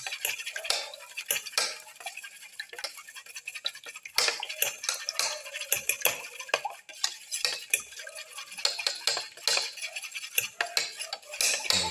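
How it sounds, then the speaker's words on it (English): Eggs being whisked in a bowl for a black pepper and fenugreek leaf omelette, a steady run of quick, close clinking taps of utensil against the bowl with no talking. "Mix the eggs."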